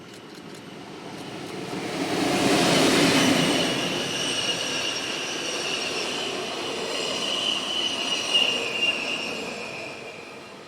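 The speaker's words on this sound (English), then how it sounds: "number 616 heads east with another Glacier Express working from Zermatt to St." The Glacier Express, hauled by electric locomotive 616 on its run from Zermatt to St. Moritz, passes with its wheels squealing. The rumble swells as it nears and a high steady screech holds as the carriages roll by.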